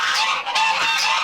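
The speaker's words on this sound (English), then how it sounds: "we did get some more Pekin ducks, which are over there" Pekin ducks in a noisy bird enclosure on a farm, a loud, close burst of harsh, honking quacks overlapping for about a second.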